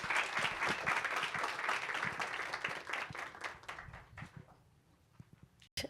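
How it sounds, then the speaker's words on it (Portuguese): An audience at a panel talk in Brazil applauds steadily and fairly quietly, then the clapping thins out into scattered claps and stops. "Por favor, vem para cá com os nossos aplausos."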